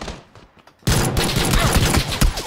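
Pistol gunfire in PUBG erupts after a quiet lead-in, a rapid burst of loud, close shots that keeps crackling densely for the rest of the stretch.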